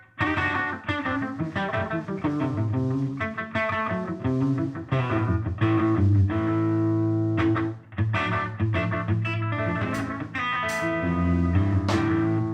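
Electric guitar through an analog delay pedal without reverb, playing a melodic, chordal phrase with a single delayed repeat trailing each note, loud and continuous.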